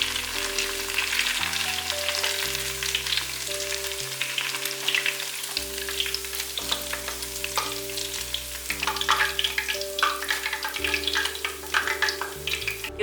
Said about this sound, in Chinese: 炸成像这样子金黄色就可以起锅了